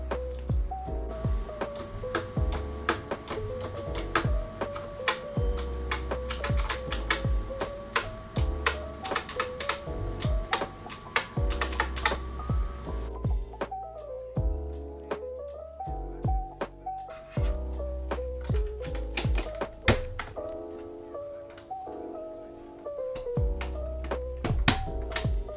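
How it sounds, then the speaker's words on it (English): Someone types steadily on a Yunzii Actto B303 typewriter-style keyboard with tactile switches, giving a long run of sharp, close clacking keystrokes over a soft musical background. "Don't judge me for my typing."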